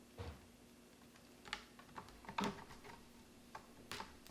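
Palette knife tapping and scraping on a wooden palette while old paint is cleared off, a series of soft, irregular clicks and taps, quiet and close, with no voices.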